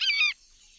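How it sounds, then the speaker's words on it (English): A single loud goose honk, harsh and nasal, lasting about a third of a second, followed by near silence. "A bird."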